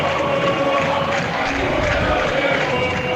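Football supporters singing together at a Guarani match against Red Bull in the 2023 Paulistão, a steady, dense crowd chant filling the stadium with continuous sustained voices and no pauses.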